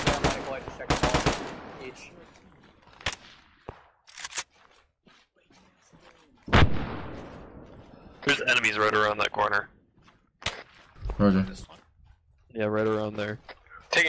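Scattered gunshots from rocky high ground in ARMA 3, a few loud close cracks mixed with fainter distant pops, interleaved with radio-style speech from players.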